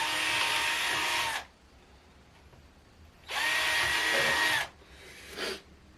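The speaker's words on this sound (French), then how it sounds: "ça c'est uniquement pour voir un petit peu le pré-perçage pour moi, pour visser" A power drill pre-drills a hole in wood for a screw while beehive equipment is being built. There are two loud close whirring bursts, the second rising slightly in pitch as it spins down, then a shorter, fainter third burst.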